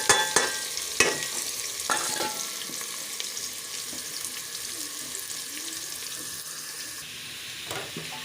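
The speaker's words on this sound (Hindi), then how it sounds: "अब हम प्याज भूनेंगे।" Chopped onions frying in 2 to 2.5 spoonfuls of hot oil in a home kitchen pan, with a steady sizzle throughout and several sharp clinks of a spoon stirring near the start and end.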